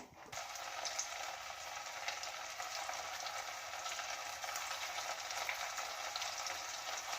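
Chicken 65 pieces deep-frying in hot oil, a steady, dense hiss that runs without a break, close and moderately loud, with no voices.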